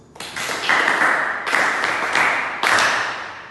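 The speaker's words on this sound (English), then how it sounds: "May we applaud them, please?" Students in a classroom get a short round of applause, a dense wash of clapping that swells twice and then tapers off, with no talking over it.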